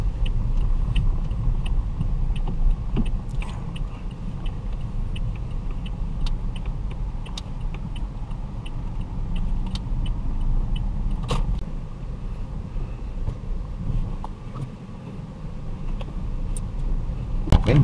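Manual car engine rumbling steadily while driving after a shift into first gear, a continuous low drone inside the cabin with small clicks and rattles.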